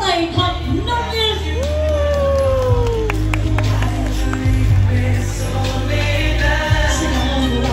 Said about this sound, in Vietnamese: xin mời tất cả quý vị hãy cho tặng một tràng pháo tay thật nồng nhiệt